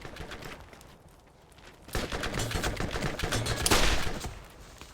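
An enemy weapon in Borderlands fires a steady, crackling stream of gunfire that swells partway through and peaks near the end, dense and continuous rather than in separate shots.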